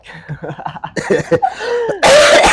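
A single harsh, loud cough bursts out near the end, right after a stretch of speaking voice during a casual conversation.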